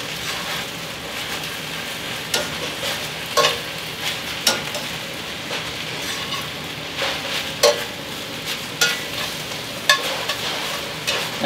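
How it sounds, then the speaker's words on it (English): Spinach stir-fried with ginger and garlic in a pan, a steady broadband sizzle with repeated sharp clicks and scrapes of a utensil turning the leaves, close and continuous with no talking. "just going to keep turning the spinach until it's all wilted."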